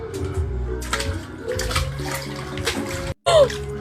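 Water splashes and sloshes in Angel's backyard swimming pool, loud and close, with continuous churning and a brief dropout near the end.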